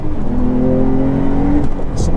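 Porsche 911 Carrera GTS six-cylinder engine revving from inside the car, a loud sustained droning rise in pitch that cuts off sharply, followed by a short hiss.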